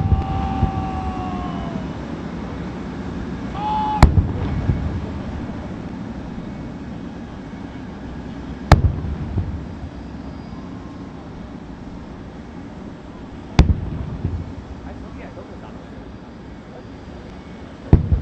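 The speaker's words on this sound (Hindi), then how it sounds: "इस वक्त तोपों की सलामी दी जा रही है चीनी वज़ीर आज़म ली चियांग को" Three loud, sharp booms of a ceremonial cannon salute, a 21-gun welcome for the visiting Chinese Prime Minister in Pakistan, spaced about five seconds apart over steady outdoor wind and crowd rumble.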